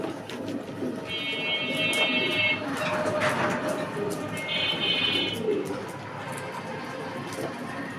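Pigeons of a famous breeding line coo softly and repeatedly in a loft under steady background noise, with two brief high whistling tones cutting through.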